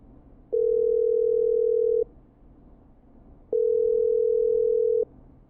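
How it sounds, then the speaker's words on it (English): Telephone ringback tone in the video game Killer Frequency: two long, steady, loud electronic beeps about one and a half seconds each, separated by a pause of similar length, heard alone over faint background hum. "Okay, I'm dialing."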